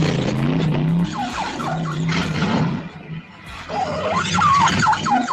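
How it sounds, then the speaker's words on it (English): A stuck car revs its engine hard while its tires squeal and skid, the whining pitch rising and falling in repeated surges over several seconds, loud and close. "We got her car stuck again"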